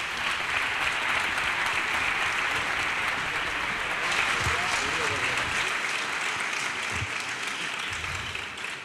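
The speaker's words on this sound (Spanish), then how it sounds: "Un fuerte aplauso." Audience applause at the Plasencia Encorto 2022 short film awards ceremony, greeting the city's mayor: sustained, dense clapping that stays loud and steady throughout, with a brief dip near the end.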